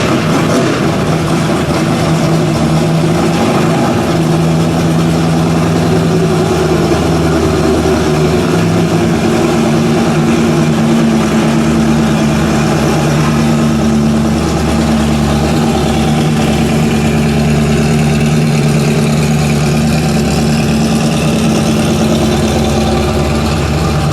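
A gold 1965 Plymouth Barracuda custom restomod idles at a car show, its engine a steady loud rumbling burble with a slight lope that stays even throughout, with no voices over it.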